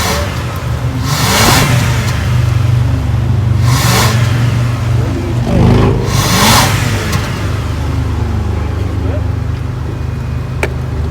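Engine of a used 2003 Lexus ES300 revs up three times in regular bursts, each a loud rising swell over a steady idle rumble, with people talking nearby.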